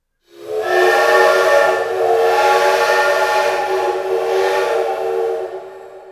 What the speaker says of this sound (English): he was awakened by a whistle